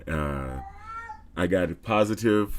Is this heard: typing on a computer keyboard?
no